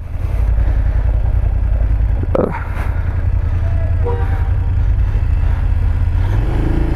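A BMW 850 GSA motorcycle rides off-road over rocky mountain terrain in Zanskar. Its engine rumbles loud and steady throughout, with a brief clattering knock partway through and some faint voices underneath.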